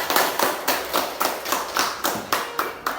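A classroom of students claps in unison for their teacher, a tight rhythmic pattern of about a dozen sharp, evenly spaced group claps, fairly close and steady, with no talk over them.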